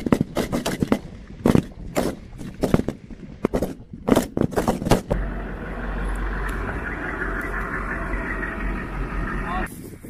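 At a rifle and pistol shooting championship, a quick run of sharp, loud gunshots cracks out close by in an irregular rapid sequence, followed by a steady low rumble of background noise.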